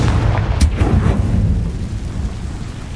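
A Confringo explosion spell is cast in Hogwarts Legacy: a loud, rumbling blast with a sharp crack at its start, then a heavy low boom that rolls on and slowly fades.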